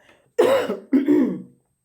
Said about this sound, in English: I have this cough or whatever, and I'm trying to get rid of it.